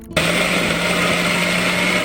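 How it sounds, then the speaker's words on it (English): A blender whirs on high, pulsing soaked almonds with four cups of cold water; after a brief silent moment the motor kicks in with a steady, loud, continuous whine that holds alone to the end. "turn on that blender, and absolutely pulse that mixture on high for 2 minutes or so."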